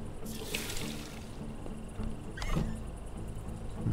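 Water runs from a tap in the video game Mr. Prepper, a steady hissing stream lasting the whole stretch, with a brief click near the middle and game ambience underneath.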